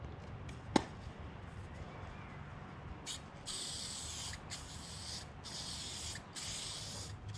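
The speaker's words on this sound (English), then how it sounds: "we're going to coat one side with the R88, rust preventative" R88 rust preventative is sprayed onto a metal surface in several bursts of loud hiss, each lasting about half a second to a second, with short gaps between. A single sharp tap comes before the spraying starts.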